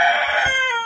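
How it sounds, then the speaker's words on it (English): A single rooster crows loud and close, a drawn-out harmonic call that fades toward the end, kept among leghorn-mix, Americana and Rhode Island Red hens. "we do have a rooster in there"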